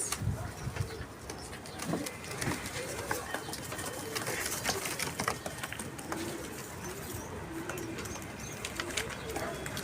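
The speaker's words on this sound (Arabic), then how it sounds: "والله العظيم ده حمام ذوق كويس." Domestic pigeons in a loft coo close by in repeated low, throaty, rolling calls that overlap continuously, with faint rustling around them.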